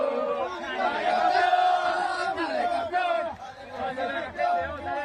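A crowd of voices chants and cheers together in loud, bouncing rhythm, rising and falling in energetic bursts, as Argentina's blind football team celebrates winning the final at the IBSA World Games 2023.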